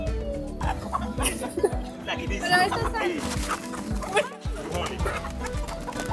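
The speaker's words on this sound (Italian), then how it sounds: "How many chicken do you have?" Live chickens cluck and squawk at a roadside market in Uganda, sharp repeated calls from several birds close by, mixed with people talking and some laughter.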